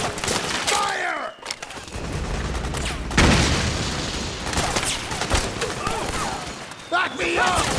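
Sustained gunfire and explosions in a Metal Gear Solid 4 battle, a dense fusillade with booms and shouting voices throughout, rising to a loud burst midway.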